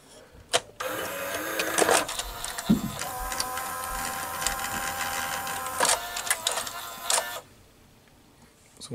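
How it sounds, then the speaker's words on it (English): A 1984 Toshiba V-M42C Beta VCR loading and threading a tape: a steady mechanical whirring with clicks and clunks from the moving mechanism. It runs for several seconds, then cuts out into near silence, close and fairly quiet. "there you could see this awesome tape threading"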